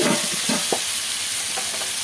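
Jackfruit seeds with salt being stirred in a sizzling pan, a steady frying hiss under a few scraping strokes of a spoon near the start.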